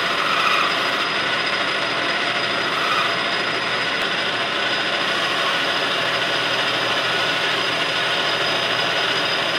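A homemade dovetail cutter being turned on a Tormach lathe at 864 RPM, producing a steady, dense machining whir with a fine scraping texture. It holds at a constant level from start to finish, with no voices.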